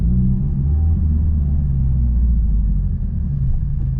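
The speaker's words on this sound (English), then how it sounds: "just doing this little drive. We're not really speeding or anything, just kind of breaking the tires in" A Subaru WRX VB on fresh Yokohama AD09 tires cruises at gentle speed, heard as a steady low engine and road rumble from inside the car, continuous and fairly loud with no talk.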